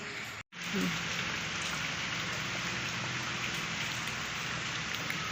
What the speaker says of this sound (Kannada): ಇವಾಗ ಮಳೆ ಜೋರು ಬರ್ತಾ ಇದೆ